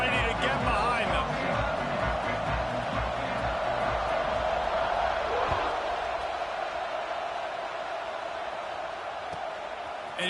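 A football stadium crowd roars in a continuous wash of distant cheering before kickoff, steady and full, with a broadcast commentator talking over it.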